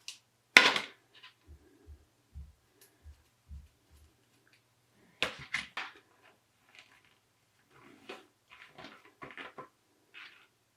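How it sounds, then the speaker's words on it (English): A wooden embroidery hoop being opened, giving a sharp wooden clack followed by scattered soft knocks and light rubbing taps, close and quiet with silent gaps between. "We're just going to open up our hoop."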